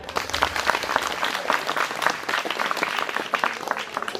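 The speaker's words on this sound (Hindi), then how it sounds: "ताली हो जाए" A cultural-program audience at a Gandhi fair lecture breaks into applause, a full, lively burst of many hands clapping close by for several seconds without speech.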